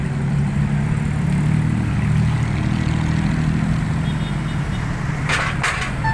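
A long convoy of Daihatsu Hijet cars rolls past, mixed with trucks, as a continuous engine rumble and road noise that holds steady and ends with a few brighter whooshes of passing vehicles.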